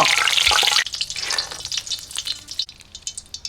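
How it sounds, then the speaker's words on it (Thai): Pork fat rendering over low heat in a pan for crispy pork cracklings, a steady bright sizzle and crackle with occasional stirring scrapes, loud and close, no talking. "รีดให้น้ำมันเนี่ยเขาออกมาจากมันหมูให้เยอะที่สุดนะครับเป็นการใช้ไฟอ่อน"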